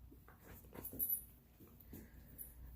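A pet dog whimpers and snuffles indoors in soft, broken bursts, with a slightly louder stretch near the middle, faint and close against a quiet background.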